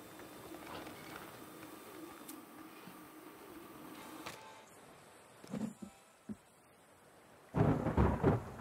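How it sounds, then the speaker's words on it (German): Thunder in a thunderstorm in the survival video game The Forest: a faint low rumble builds, then several short cracks arrive, ending in a loud, close, sustained rolling boom. "es gewittert wieder"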